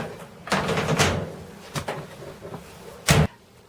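Close household clunks and knocks as a clothes dryer door is handled and pulled open, several separate thumps including a sharper one near the end, with no talk.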